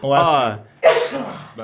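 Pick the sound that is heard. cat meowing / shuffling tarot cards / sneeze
sneeze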